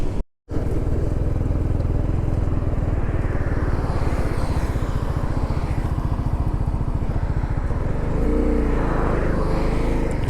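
A Hero Xpulse motorcycle engine drones steadily and loudly throughout a ride, close up, with a brief cut near the start and a shift in tone toward the end as the bike changes pace.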